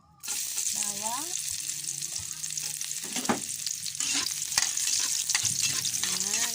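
Garlic frying in a pan with a steady, close hiss of oil and occasional stirring clatter; a voice speaks in the background at several points.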